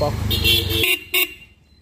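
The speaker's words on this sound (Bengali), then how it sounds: "দুটাই জাপানিজ হর্ন, তো শোনায় দিই আপনাদের" A Japanese horn on a Yamaha RXS 115 motorcycle honks twice up close, with a longer blast first and then a short, sharp toot.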